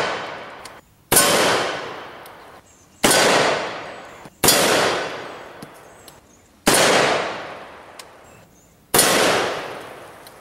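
AR-15 rifle firing 5.56 SS-109 rounds into a Line X coated armor plate: five loud, sharp shots spaced roughly two seconds apart, each with a ringing decay.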